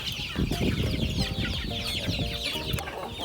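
Several chickens clucking close by in a busy, continuous chorus of overlapping calls.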